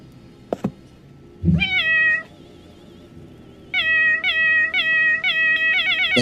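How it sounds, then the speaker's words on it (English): A cat meows, then after a pause gives a quick series of repeated meows, clear and close, with a soft knock near the start. "You hear them meows?"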